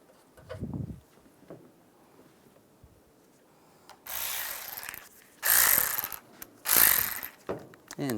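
Ratchet snugging down grille bolts on a 2007-2013 Chevrolet Silverado, three bursts of quick clicking after a few soft handling knocks, close and loud with no talk.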